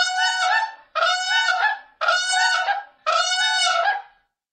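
Cranes, the tallest birds in the United States, give four loud, harsh honking calls in a steady rhythm, each lasting about a second and separated by short gaps, with nothing else heard.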